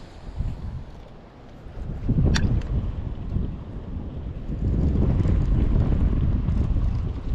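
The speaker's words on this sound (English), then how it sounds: "This side's received more wind. It's still relatively calm, but it's been windier over here." Wind gusts over open water during a bass fishing outing. A steady roar of blustery buffeting hits the microphone close and loud and swells stronger toward the end, with no voices.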